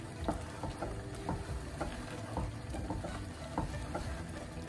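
Moroccan-style lentils with meat being stirred in a pot, with scraping spoon strokes over a steady low sizzle, close by and fairly quiet, with no voices.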